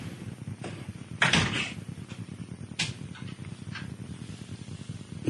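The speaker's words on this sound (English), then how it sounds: "Close the door." A door swings shut with one solid thump amid low background rumble, followed by a few fainter knocks and shuffles in a radio studio setting.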